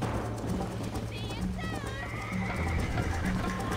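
A horse in the video game Red Dead Redemption gallops with rhythmic hoofbeats and gives a loud wavering neigh, heard under someone talking over the action.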